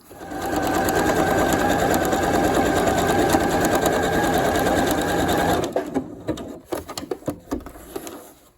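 A sewing machine stitching lines of gold thread onto a pencil case runs loud and steady for several seconds, then stops and breaks into a scatter of uneven mechanical knocks and clatter.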